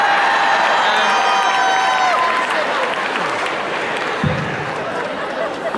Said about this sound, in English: how about a big round of applause for these folks who are just getting here?